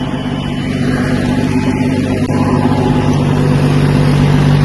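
A tractor fitted with a mini agricultural rotavator runs steadily in a field, its engine giving a loud, continuous low drone with a constant mechanical hum and no pauses throughout.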